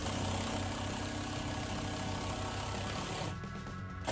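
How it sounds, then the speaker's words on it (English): A powered driver runs steadily, driving screws to mount a Caprice outdoor roll-up blind from Spotlight. The close, continuous motor whir lasts about three seconds, then stops abruptly and leaves a quieter tail. "With the blind level, drive in the screws at either end of the blind."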